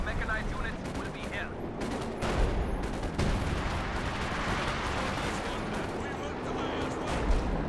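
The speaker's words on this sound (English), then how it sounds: "I've got the LFH going to work, targeting the Soviet team base." Howitzer artillery fire in the Company of Heroes 2 game during a 2v2 match, with repeated booming shots and dense battle noise throughout under steady commentary talk.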